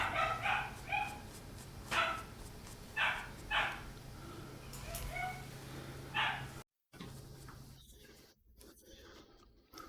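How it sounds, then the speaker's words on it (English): A dog barking in the background of a live acrylic painting session, a series of repeated barks spaced through the clip, moderately distant over a steady low hum. "Sorry about the dog barking in the background."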